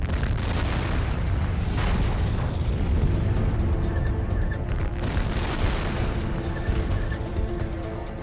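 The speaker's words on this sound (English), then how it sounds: "The blast is so strong, it shakes the traffic cam" A truck's BLEVE explosion on a highway lets out a massive, sustained roaring boom that fills the whole stretch, loud and rumbling, with no voices over it.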